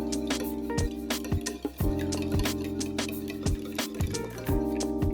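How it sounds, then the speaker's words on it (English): A whisk beats three cracked eggs in a bowl, giving quick irregular clicking taps against the bowl over a steady tonal background. "Then we'll just break the yolks and whisk it."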